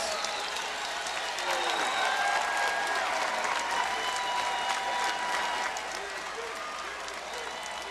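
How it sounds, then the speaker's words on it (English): A large wrestling event crowd claps steadily, dense and sustained applause filling the arena, with a few faint shouts mixed in. "give yourselves a round of applause"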